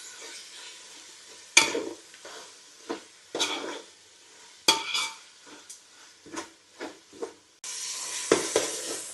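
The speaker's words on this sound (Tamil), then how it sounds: "தக்காளி வெங்காயம் நல்லா வதங்கிருச்சு" Tomatoes and onions sauté in a pan for chicken biryani. A spoon scrapes and stirs at irregular intervals over a soft sizzle, and the frying hiss grows louder near the end.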